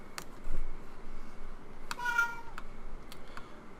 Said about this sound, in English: I hear my cat there.